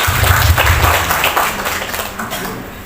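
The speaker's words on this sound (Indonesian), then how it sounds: "Tepuk tangan untuk Satrianto" An audience of teachers at a training seminar gives a short burst of applause, loud at first and tapering off, with some voices mixed in.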